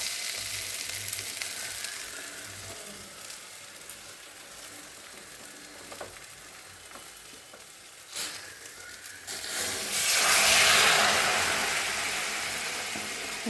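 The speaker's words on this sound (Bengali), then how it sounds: "এখন আমি গরম জলটা দিয়ে দেব" Frying spice masala for a masoor dal curry sizzles quietly with a few stirring knocks, then hot water is poured in and sets off a loud, rushing hiss that slowly dies back.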